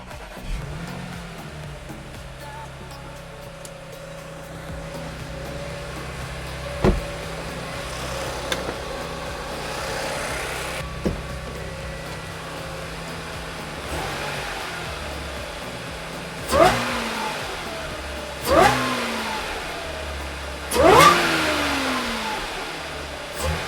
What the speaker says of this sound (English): What an awesome sound from that cold air intake.